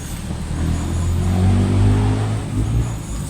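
A motorcycle engine rumbles low and fairly loud as it stops on the road just above a hillside hut, swelling briefly as if revving, then settling to a steady idle.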